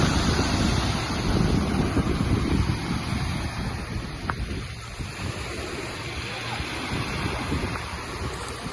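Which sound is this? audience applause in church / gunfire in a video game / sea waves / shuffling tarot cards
sea waves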